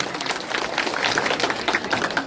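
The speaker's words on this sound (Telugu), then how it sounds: "అందుకని మనందరం చప్పట్లతో వాడిని అభిమానిస్తాం" Audience at a community gathering in Kavali applauds, a dense, steady wash of clapping from many hands sustained throughout at moderate loudness.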